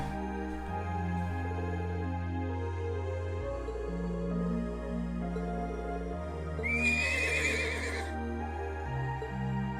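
A horse whinnies briefly over looping game music with a low, steady bass line, in the video game Trails of Cold Steel II.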